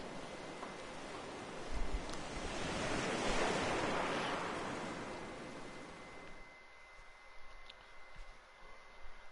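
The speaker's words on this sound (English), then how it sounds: "Hark, the murmuring of waves." Ocean waves murmur in Elden Ring Nightreign, a soft, steady wash of surf that swells and then thins out, with faint wind and no voices.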